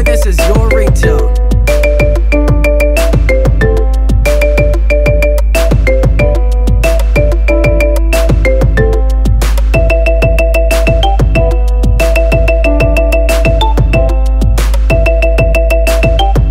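A marimba remix ringtone plays loud and steady, its bright mallet notes struck in a brisk repeating pattern over a constant deep bass, with no voices throughout.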